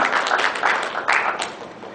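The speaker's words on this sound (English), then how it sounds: "Congratulations and a big round of applause for them" An audience breaks into applause for a quiz team, a moderate burst of clapping with uneven swells that gradually thins out over a couple of seconds.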